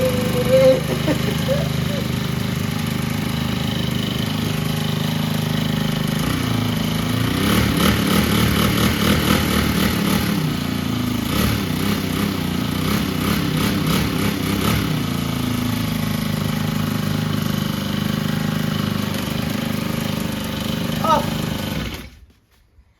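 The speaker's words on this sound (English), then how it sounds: "So the engine works." A newly assembled brush cutter's small engine runs steadily after starting, a loud buzzing drone with a few revving surges in the middle, before cutting off abruptly at the end.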